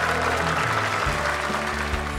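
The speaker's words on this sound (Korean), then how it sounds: "격려의 박수 다시 한번 부탁드리겠습니다" An indoor audience claps steadily in encouragement after a children's choir member speaks at a special school performance, a continuous dense patter with a low musical hum beneath.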